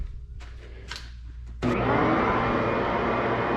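A blasting cabinet's air suction kicks on after a few faint knocks and handling sounds, then a steady, loud rushing roar of drawn air holds to the end, close and unbroken.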